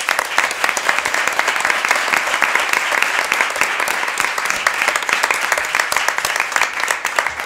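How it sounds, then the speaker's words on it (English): Council meeting attendees give a youth hockey team a round of applause, close, loud and continuous clapping from a room full of people lasting several seconds. "these guys deserve another round of applause"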